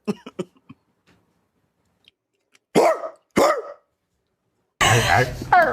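A person imitates a dog, giving two short, sharp barking bursts after a quiet stretch, followed by a louder burst of voice; brief vocal sounds at the start.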